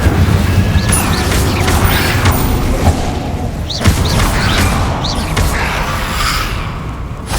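An Incendio fire spell cast in the video game Hogwarts Legacy, loud booming and whooshing magical bursts with mechanical clanks, several sharp impacts spread over a busy, continuous combat din.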